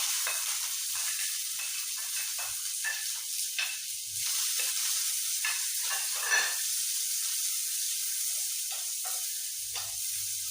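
Urad dal, green chillies, onion and curry leaves fry together. A close, continuous sizzle and hiss holds steady throughout, with small crackling bursts and faint stirring underneath.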